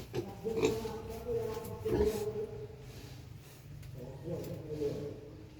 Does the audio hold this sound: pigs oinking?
yes